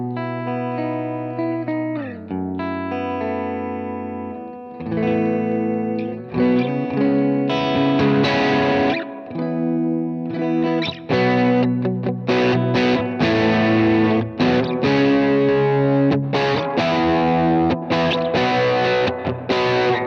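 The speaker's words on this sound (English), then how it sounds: "we'll have to run a Strymon reverb into it" An electric guitar runs through a Universal Audio Lion amp with Strymon reverb, playing distorted sustained chords and choppy strummed passages with a wet, reverberant tail throughout.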